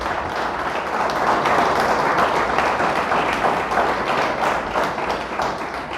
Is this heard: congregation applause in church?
yes